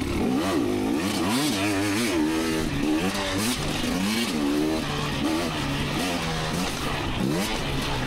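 A 2019 KTM 250xc two-stroke dirt bike rides through the woods, its engine loud and close, rising and falling in quick revving bursts as the rider shifts and accelerates.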